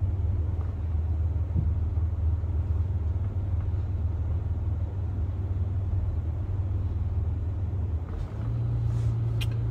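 A Ford Everest creeping forward under Park Assist into an uphill parking bay, a steady low engine drone with road rumble that holds evenly throughout, slightly shifting near the end.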